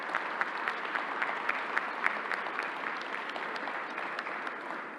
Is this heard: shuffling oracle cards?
no